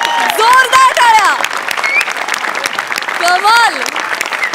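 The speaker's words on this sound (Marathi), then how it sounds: "जोरदार टाळ्या." A studio audience at a Marathi television comedy show claps in a dense burst of applause, with voices calling and laughing over it and the clapping swelling twice.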